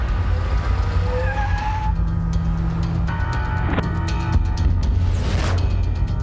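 A jeep brakes hard and then reverses, with a tyre screech and engine noise over a loud, busy action-film soundtrack and effects, no clear talking.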